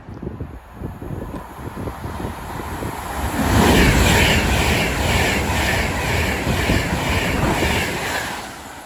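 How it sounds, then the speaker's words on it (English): An Avanti West Coast Class 390 electric train bound for Liverpool passes through Watford Junction on the West Coast Main Line, a broad rushing roar that builds quickly and holds loud and close before easing away. "Soon to emerge now will be Avanti West Coast going from London Euston to Liverpool Line Street."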